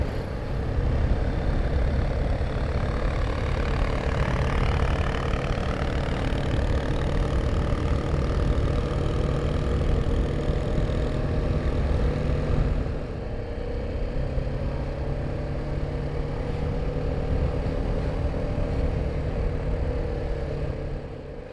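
Steady engine idling throughout, a low continuous rumble heard up close with a slight dip midway, fitting a motorcycle painted in KTM colours pulled up nearby, with no talk.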